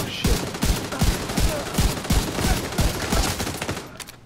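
Rapid bursts of gunfire in the video game Tom Clancy's The Division 2, sharp repeated shots in an uneven rhythm, loud and close, with faint game voices mixed underneath.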